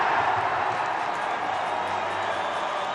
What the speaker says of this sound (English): The cheer goes around the ground because it's a huge wicket